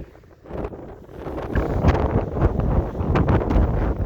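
Gusting wind buffets the microphone on a mountain hike, a steady low rumble with stronger surges that rise and fall throughout.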